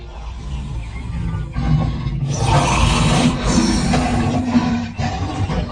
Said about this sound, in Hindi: कुएं के अंदर से आती हुई अपनी ही दहाड़ने की गूंज